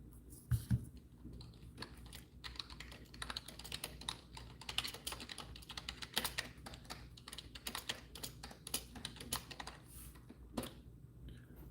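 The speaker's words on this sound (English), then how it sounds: "I got a keyboard connected to my phone" A keyboard connected to a phone is typed on in quick, uneven bursts of soft key clicks, close but faint, running steadily with brief pauses and no talking.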